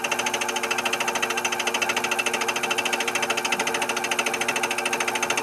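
A vertical milling machine taking a second cut across a workpiece, a steady loud whirring and chattering drone with a fast, even rhythmic pulse that runs continuously without pause.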